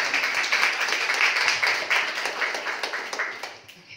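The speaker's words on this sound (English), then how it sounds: "can we give her a round of applause for both of you?" An audience claps warmly at a hosted talk in Nairobi, the dense round of applause holding strong before thinning and fading out toward the end.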